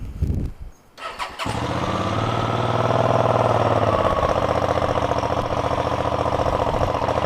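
A 650 or 700 cc L-twin motorcycle engine rumbles at a steady, lumpy idle, close by, following a short burst of handling noise as it settles into an even throb.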